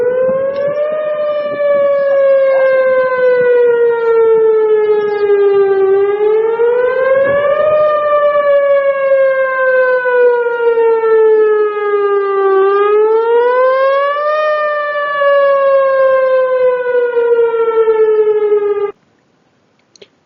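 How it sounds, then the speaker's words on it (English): An industrial plant's evacuation whale-tone siren, similar to an air raid siren, wails loud and steady for about nineteen seconds, its pitch sliding slowly down and back up in long repeated sweeps before cutting off abruptly. "The whale tone sounds very similar to an air raid siren."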